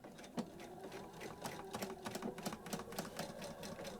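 A sewing machine stitches in reverse with fast, even mechanical clatter, fairly quiet and heard on its own.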